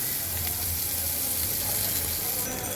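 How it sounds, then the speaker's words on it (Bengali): Chopped onion sizzles and fries steadily in hot oil in a pan, a dense continuous crackle close by with no pauses. "পেঁয়াজটাকে আমি একটু সুন্দর করে ভেজে নেই"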